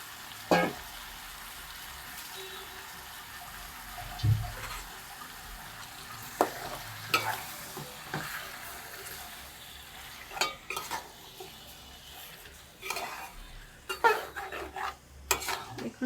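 Marinated chicken pieces being stirred in a frying pan for a Bengali chicken curry, with scraping and shuffling stir strokes over a faint sizzle, spaced irregularly and moderately close, without talk.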